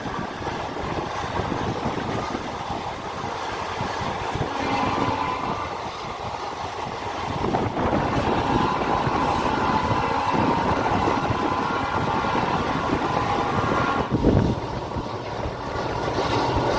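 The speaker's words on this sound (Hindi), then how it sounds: "तो दोस्तों ट्रेन हमारी पहुंच रही है अब धुरी" Inside an express passenger train from Haridwar to Bhavnagar as it approaches Dhuri, a steady broadband rumble and rattle of wheels on rails with faint clatter, continuous and fairly loud, a brief louder jolt near the end.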